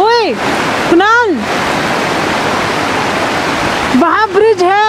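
Loud rushing water of a mountain stream in Sikkim roars as a constant close wash of noise, while people talk loudly over it at the start and end.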